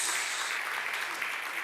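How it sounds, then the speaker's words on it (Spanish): A church congregation applauds on a morning of worship, giving a sustained burst of dense, even clapping that holds steady throughout without pause. "Dale fuerte ese aplauso al Señor en esta mañana"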